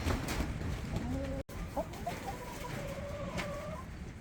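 Chickens cluck and squawk intermittently at close range against a steady background hiss, with short rising calls scattered throughout.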